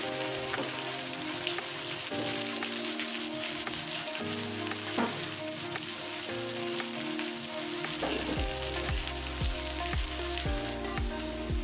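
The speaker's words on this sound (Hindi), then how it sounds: "फ्राई होने में थोड़ा सा टाइम लेंगे।" Okra sizzles steadily in a hot pan while cooking for bhindi chicken masala, a dense continuous fry under background music, with no talking.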